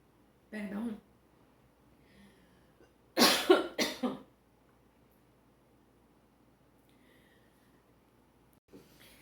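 Several harsh coughs come in a short burst, loud and close, after one earlier throat sound, with quiet stretches between.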